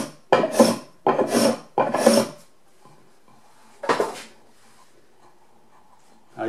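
A rasp files and shaves a piece of wood while a handmade beading plane is being made. Three quick rasping strokes are followed by a pause, then one more stroke, with faint handling noise between them.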